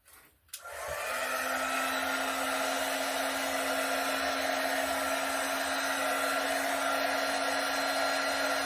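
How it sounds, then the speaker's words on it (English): A heat gun blowing over wet acrylic paint starts with a click, then settles into a loud, steady, continuous whine and rush of air close by. "let me hit that with a heat gun"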